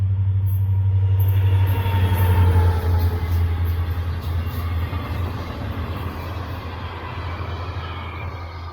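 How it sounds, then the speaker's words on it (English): A Florida East Coast Railway Toys for Tots Santa train rolls past near Cocoa, Florida, with a loud steady diesel rumble and wheel noise that slowly fades, no speech. "Here it is, passing by one of Brightline's work trains for the Orlando line."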